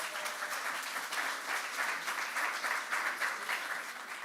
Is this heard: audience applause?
yes